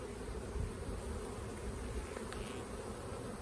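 Honey bees fill an opened hive during an inspection with a dense, continuous buzz, close and steady throughout, with no voices.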